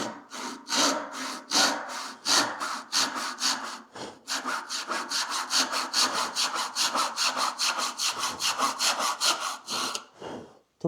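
A Japanese back saw cuts through wood in steady push-pull strokes, a rhythmic rasping that repeats dozens of times, close and clear, with a short pause partway through and no talking.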